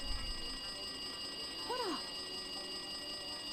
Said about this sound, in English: It looks like that phone is ringing.